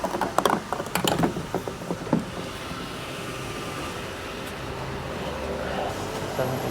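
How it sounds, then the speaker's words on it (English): A petrol station fuel pump filling a car: a few sharp clicks and clanks as the nozzle goes in, then a steady mechanical whirr of fuel flowing, close by with no speech. "Let's fill up with fuel. Let's pay at pump."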